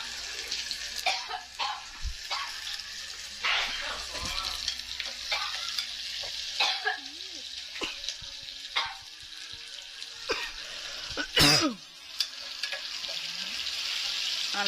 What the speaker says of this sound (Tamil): ஸோ நல்லா வதக்கணும்